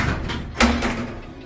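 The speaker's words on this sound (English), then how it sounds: "Doors closing." Automatic doors slide shut with a brief whoosh and a dull thud, close by and fairly loud against background hubbub.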